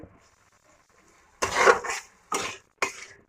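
A plate being rinsed with water in a home kitchen during Bengali cooking, heard as three short, close bursts of clatter and splashing separated by quiet gaps, with no talk.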